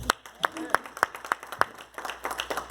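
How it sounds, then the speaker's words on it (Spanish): A church congregation at a Thursday service applauds, starting with a steady run of crisp, evenly timed claps that loosens into scattered, overlapping clapping, with voices mixed in. "Hacer un aplauso a ustedes mismos."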